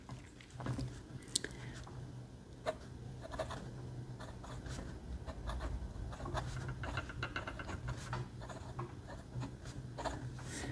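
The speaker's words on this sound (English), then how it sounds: "this is a quiet writer. This is not a scratchy pen at all" A Hong Dian 525 fountain pen with a mini fude nib writing on paper gives soft, quiet scratches and strokes close by, broken into short bursts, with a voice speaking quietly over parts of it.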